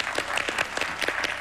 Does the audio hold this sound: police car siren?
no